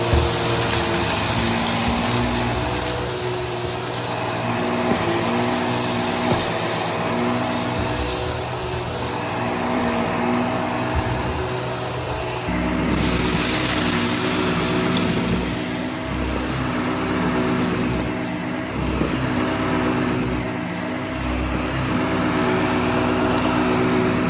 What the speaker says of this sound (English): let's see how well the Bissell Pet Hair Eraser cleans up to the edges